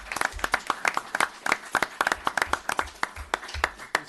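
Audience at a town board meeting applauds a police sergeant being honored, a dense burst of steady hand clapping close by that keeps going throughout without any talk.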